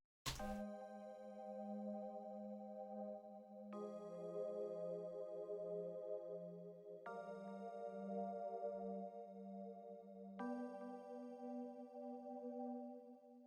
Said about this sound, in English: This is a pad called Xmas pad.